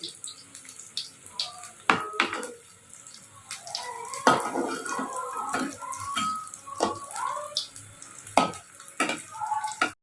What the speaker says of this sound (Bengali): এবারে আমি এখন ফ্রাই করছি হচ্ছে চিকেন কাটলেটগুলো